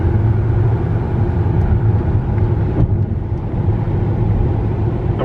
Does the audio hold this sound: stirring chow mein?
no